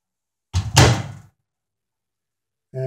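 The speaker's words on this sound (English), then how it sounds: "Place it in the microwave oven" A microwave oven door swings shut with a solid thunk and latch click, heard close and alone in a quiet kitchen, followed by the beginning of a hum.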